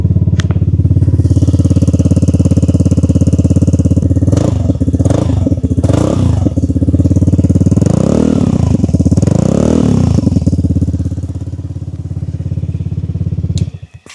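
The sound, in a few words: Vespa Primavera scooter engine with Akrapovic performance exhaust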